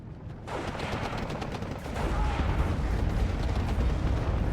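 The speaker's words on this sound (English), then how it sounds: "Seeing a rocket come down here." Rocket artillery strike in the Steel Division 2 multiplayer war game, a dense roar of explosions and rumbling impacts that swells and grows louder partway through, with no talking.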